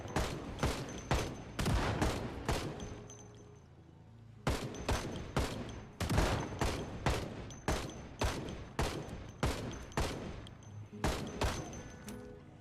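Shotgun blasts ring out in the zombie survival game Project Zomboid, a steady run of sharp loud shots about every half second with a short pause midway, fading tails between each.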